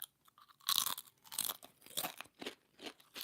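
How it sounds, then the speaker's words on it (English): Jalapeno kettle-cooked potato chips crunched and chewed up close, a run of loud crisp bites followed by rhythmic chewing crackles, no talking. "these are jalapeno kettle cooked. Kettle cooked means they're extra crunchy."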